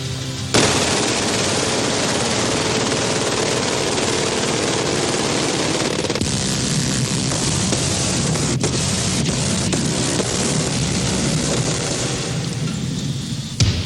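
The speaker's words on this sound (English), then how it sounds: "We'll be showing and shooting the widest array of machine guns ever assembled" Machine guns fire in long, continuous bursts, a loud, dense rattle of automatic fire that runs almost without a break for over ten seconds.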